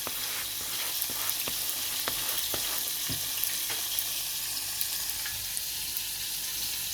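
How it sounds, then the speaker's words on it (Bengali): Chicken pieces frying slowly in butter in a pan, a continuous close crackling sizzle with scattered sharper pops and spits throughout, no voices over it. "আর এই যে আমি চিকেনটা খুব আস্তে আস্তে ভাজছি।"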